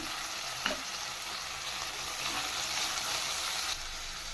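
Capsicum and carrot frying in a pan, a continuous soft sizzle with occasional stirring scrapes and one brief clack, heard alone and fairly quiet throughout.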